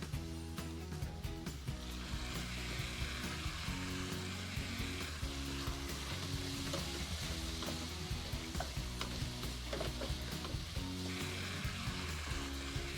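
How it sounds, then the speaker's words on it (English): Softened onions and a chopped tomato fry in a pan over medium heat, a continuous close sizzle broken by frequent stirring clicks and scrapes. "So now let's cook this over medium heat for about 5 to 6 minutes until the tomato really starts to break down."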